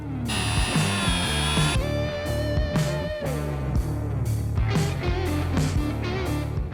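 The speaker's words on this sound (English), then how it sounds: "Now we can take our rack off and start drilling all of them" A power drill whines in bursts, its motor pitch rising and falling as it bores holes for a roof rack on a Chevy Silverado, with clattering handling noises between runs.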